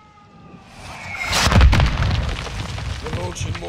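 A mortar explosion in the video game Call of Duty: Modern Warfare II lands close as one heavy, loud boom that swells from a low rumble, then crackles and rumbles away.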